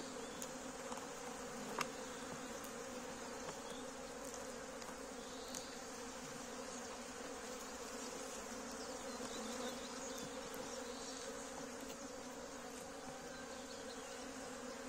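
Honey bees buzz steadily around a hive in early spring during the first nectar flow, a soft continuous drone with a few louder passes of single bees close by.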